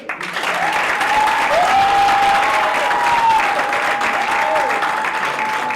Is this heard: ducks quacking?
no